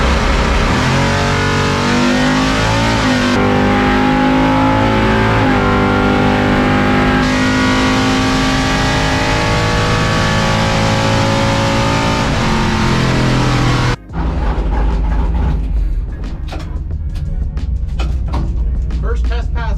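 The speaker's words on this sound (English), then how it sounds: "Let's see what the truck will do today." A race truck makes a drag racing test pass on a warm day, its engine loud and revving hard through rising, strained harmonics. The roar cuts off abruptly, and a lower, rougher rumble with wind follows.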